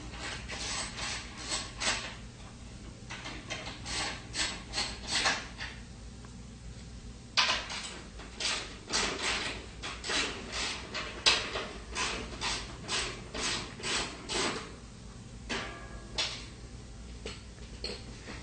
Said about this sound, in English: Using a 1/2" socket, remove the 2 tub to molder mount screws and washers.